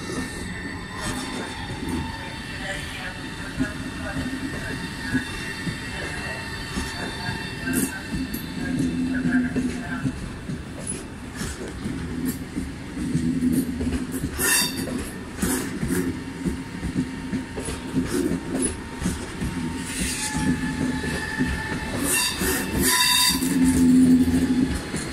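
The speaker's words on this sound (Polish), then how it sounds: "I odjeżdża pociąg EIP dla CI Gdynia Główna - Kraków Główny." An ED250 electric EIP passenger train departs Gdynia Główna station, rumbling steadily nearby for the whole stretch, with wheel squeals and brief high screeches, a low hum building toward the end.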